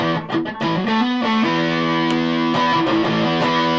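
Electric guitar with single-coil pickups through heavy distortion, playing sustained, buzzing notes and short bends, loud and steady throughout with no voices.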